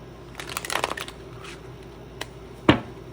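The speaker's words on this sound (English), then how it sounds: "That was a useless shuffle." Tarot cards are shuffled in quick bursts, with a soft flurry of papery riffling and slaps up close, a few scattered taps, and a sharper card snap near the end, all in a quiet room without speech.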